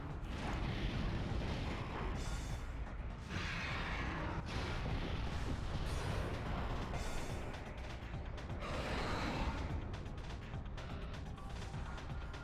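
Sustained rumbling explosion effects with grinding, creaking mechanical noise in the video game Metroid Prime as a room depressurizes, loud and continuous throughout with repeated bursts.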